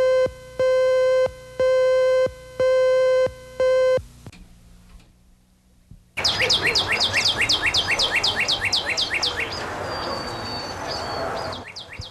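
Birds chirp at a nature park, bright repeated calls and trills coming steadily over outdoor background noise. An evenly pulsed electronic tone and a quiet stretch come before the birdsong.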